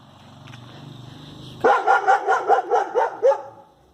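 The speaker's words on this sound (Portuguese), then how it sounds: "Cachorro grande." A large dog barks repeatedly, about eight deep, loud barks in a steady rhythm, close by, after a quiet stretch of faint background noise.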